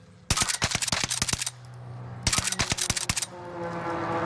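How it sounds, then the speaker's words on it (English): Two rapid bursts of enemy gunfire in Call of Duty: Warzone, each a loud string of sharp, close shots, separated by a short lull with steady game ambience underneath. "there's another team shooting us"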